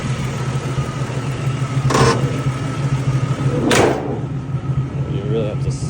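A 1974 Duster car engine idles steadily with a low rumble, and two short bursts of louder noise like doors or hood handling are heard over it.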